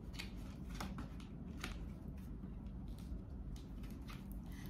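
Tarot cards are shuffled by hand in a run of soft, quick riffling flicks and slides, repeated in short bursts at low level.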